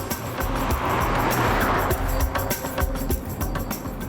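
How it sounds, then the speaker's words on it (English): A taxi speeds hard up a winding mountain road in deep winter, its engine straining in a loud, steady drone with tyre and road noise throughout, close and continuous with no talk. "The taxi driver's just driving like a lunatic up the road."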